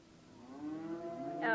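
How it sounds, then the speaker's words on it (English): A single drawn-out cattle moo rises and swells over about a second on an Australian stock property holding several hundred head, moderately close and clear, with no talk over it. "Oh, we have 300 or 400 cattle."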